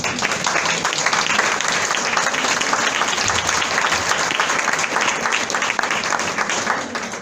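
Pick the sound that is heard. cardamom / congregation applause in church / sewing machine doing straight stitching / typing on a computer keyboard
congregation applause in church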